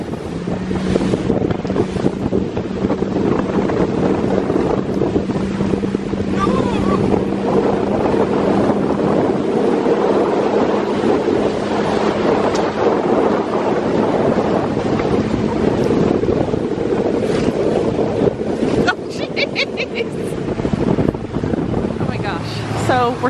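A fast speedboat pounds across choppy water off St. Petersburg, Florida, with rushing spray, heavy wind buffeting and a steady motor drone, all loud and continuous.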